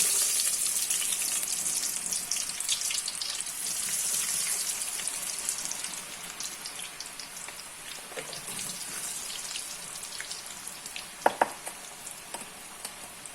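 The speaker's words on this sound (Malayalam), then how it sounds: "എണ്ണ മൂത്തു. ഇനി ഉപ്പേരി നമുക്ക് കുറേശ്ശെ വീതം ഇടാം." Thin tapioca slices (kappa) fry in hot oil with a dense, bubbling sizzle that is strongest at first and gradually softens, broken near the end by a few clinks of a utensil.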